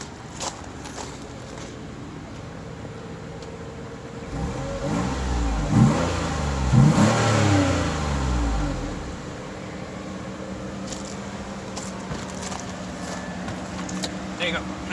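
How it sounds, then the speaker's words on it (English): Mazda 6 with a cat-back exhaust revving, the engine rising to a louder roar in the middle and settling back to idle, with people talking nearby. "Now you guys can hear that this exhaust sounds pretty whack."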